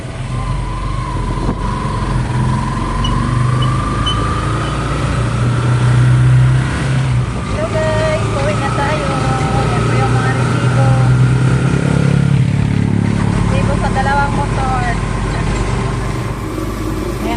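Tricycle motorcycle engine running steadily and loudly up close, a continuous low drone with slight shifts in pitch, with faint voices in the background.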